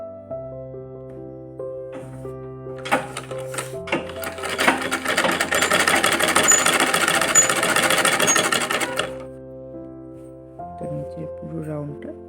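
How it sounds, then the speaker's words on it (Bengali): A sewing machine stitches the folded hem of a layered skirt, its mechanical run building in the middle of the stretch and then stopping, with someone talking before and after. "তো এই যে এখন এইভাবে এটাকে করে সেলাই করতে হবে"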